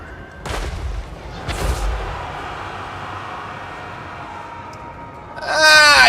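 Artillery pieces firing during a Total War: Warhammer desert siege battle, two heavy booming shots about a second apart, followed by a lingering rumble and a bright crackling blast at the end.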